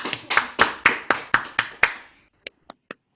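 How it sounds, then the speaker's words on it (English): An online audience claps in a round of applause, a sparse series of about a dozen sharp, close hand claps at an even pace that thins out to a few scattered claps. "So let's have a round of applause for Melissa and Andrea."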